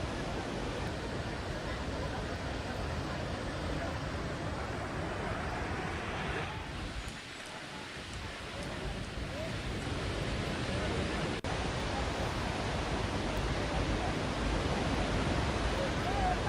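A 52-metre waterfall at Gokak in Belagavi, swollen and overflowing after heavy rain, gives a steady, dense roar that fills the whole clip, easing slightly for a moment midway before returning at full strength.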